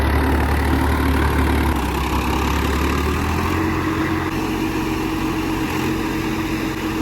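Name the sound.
tractor engine under load pulling a rotavator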